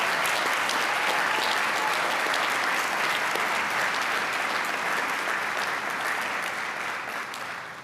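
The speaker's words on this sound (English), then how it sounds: "Please join me in a round of applause for all who have helped our graduates reach this day." Sustained audience applause fills a community college commencement ceremony, a dense, even wash of clapping from a large crowd that holds steady for several seconds before starting to taper at the end.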